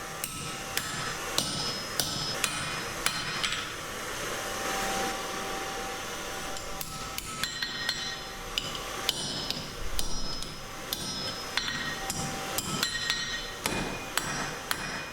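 A blacksmith's hammer strikes a hot steel bar on the anvil to forge a scarf for a weld, with a rapid, steady series of sharp metallic blows and a continuous forge blower roaring underneath.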